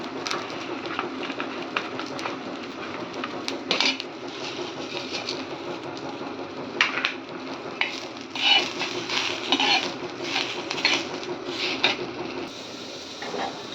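Coriander seeds go into a pan of onions fried until reddish, with soft sizzling under scattered clinks and stirring scrapes of a utensil against the pan, close and fairly quiet.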